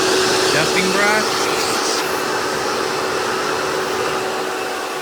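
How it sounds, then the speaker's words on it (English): A Hoover Dirt Finder Dimension upright vacuum runs at low suction with its dusting brush attached, giving a loud, close, continuous whooshing hum. A few brief scuffing touches come early on. "I do like on these vacuums the low suction, especially when it comes to cleaning delicates."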